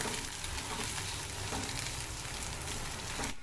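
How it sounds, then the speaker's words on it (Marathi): A ground paste of coconut, coriander and garlic fries in a pan with a loud, dense, continuous sizzle, close up and without talk. Faint stirring scrapes come through now and then. "आपण हे मस्त वाटण परतून घेऊया"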